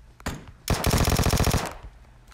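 Gunfire in the PUBG Mobile video game: a single sharp shot, then a rapid automatic burst of about a dozen rounds lasting roughly a second, fairly close and loud, with no talking.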